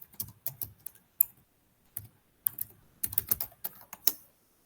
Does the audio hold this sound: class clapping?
no